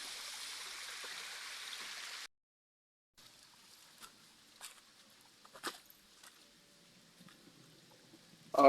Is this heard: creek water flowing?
yes